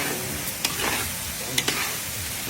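Tomatoes sauté in a pan, a steady close sizzle with a few sharp spatula clicks against the metal.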